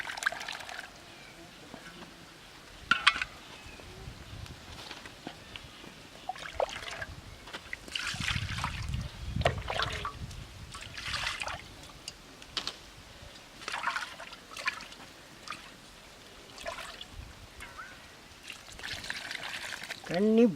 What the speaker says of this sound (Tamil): தண்ணி போர் தண்ணி கிணத்து தண்ணி தான் ஊற்றிக்கணும்